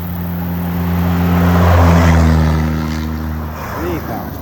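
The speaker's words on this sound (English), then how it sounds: "Here come a couple of cars." A couple of cars drive past on a street, their engine drone swelling to a peak near the middle and then fading away as they pass.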